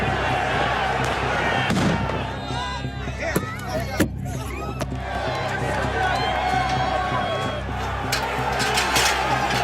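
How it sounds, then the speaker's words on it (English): Firecrackers thrown by rioters go off amid a crowd, sharp loud bangs around the middle standing out over a noisy jumble of shouting voices and clatter. "They're throwing firecrackers."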